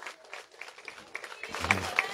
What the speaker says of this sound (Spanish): Alejandra, están dándole el último aplauso.